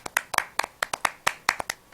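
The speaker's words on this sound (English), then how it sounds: "Can you give Sal a big round of applause?" Scattered hand claps from a small audience greeting a guest at a talk show's anniversary gathering, about a dozen sharp, close claps in a loose, uneven rhythm with no voices over them.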